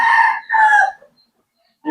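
A rooster crows nearby, loud and clear, in a single crow broken into two long hoarse phrases, then trails into quiet.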